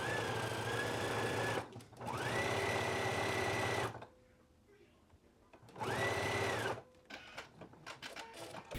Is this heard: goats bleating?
no